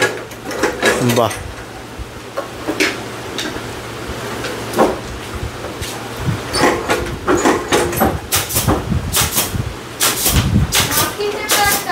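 A photo frame joining machine at a frame manufacturing workshop in Barrackpore gives off sharp mechanical clunks and knocks over a low steady hum, several close impacts bunching together near the end while people talk throughout.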